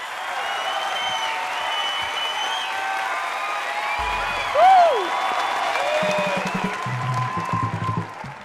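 Studio audience on a Punjabi comedy talk show, Domino's Comedy House, claps steadily to welcome guests Binnu Dhillon, Karamjit Anmol and Kavita Kaushik, a continuous dense applause with a brief whoop partway through and low background sounds near the end.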